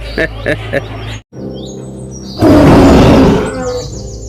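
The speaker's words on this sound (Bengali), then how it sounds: "সিংহের ডাক" A lion roars in an animated adventure cartoon, a loud, broad burst of about a second rising after a few short calls and a brief silence, followed by faint high chirps.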